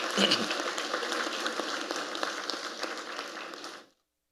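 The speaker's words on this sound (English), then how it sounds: "So a round of applause, please, again for Dr. Henry" Audience at a panel discussion applauding, a sustained even patter of many hands clapping for about four seconds before it cuts off abruptly into silence.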